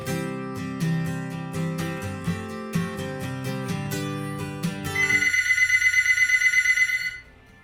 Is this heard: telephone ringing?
yes